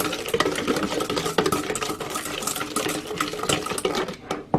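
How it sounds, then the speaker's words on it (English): Vanilla pudding ingredients are mixed together in a bowl, a busy continuous scraping and whisking that runs close and fairly loud with no pauses and no speech. "So I'm gonna mix everything together."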